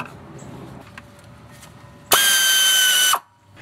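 A power tool drives bolts into a car's bottom timing belt cover, a single loud, high whine lasting about a second after quieter workshop background, then stopping abruptly.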